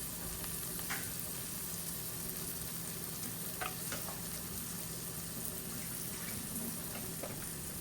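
Butter sizzles softly in a frying pan, a faint continuous crackle with a few light clinks and taps against the pan and no speech.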